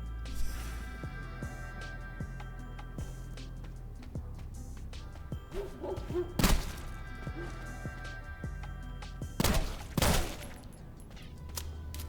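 Gunfire from a weapon firing double bullets in the video game Sulfur, heard as a few sharp bursts, two loud shots standing out over a steady background of game ambience.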